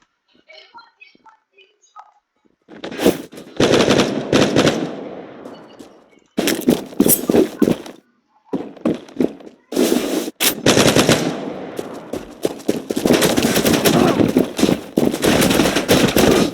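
Machine gun fire in the online shooter Zula, several long automatic bursts and rapid volleys separated by short pauses, loud and close, with faint voices at the start.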